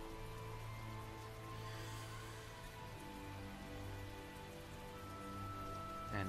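Heavy rain in the video game Tales of Zestiria patters steadily and evenly, layered over sustained background music tones, with no talk.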